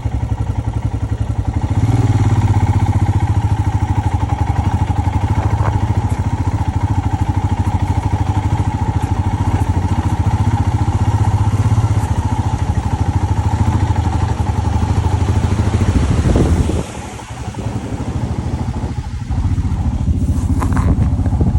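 A motorcycle engine runs steadily and loudly nearby with a low rumble, briefly dipping in volume before revving back up, on the road to Badrinath, Uttarakhand.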